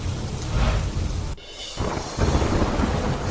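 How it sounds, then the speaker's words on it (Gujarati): Heavy, pounding rain falls in Amreli as a loud, dense hiss, briefly dipping before surging back with deep rumbling underneath. "અમરેલી કુકાવાવ વડિયા અને બગસરા પંથકમાં ધોધમાર વરસાદ"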